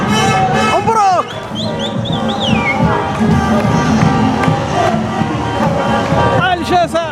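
Street crowd celebrating after an Algeria match against DR Congo, a dense roar of chanting, whistles and car horns, with someone speaking loudly over the festive noise.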